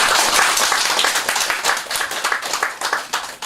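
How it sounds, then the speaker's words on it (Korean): An audience at a qigong lecture gives a round of clapping, loud and close, the claps rippling unevenly then thinning out toward the end with no talk over it. "박수 한번 주시고"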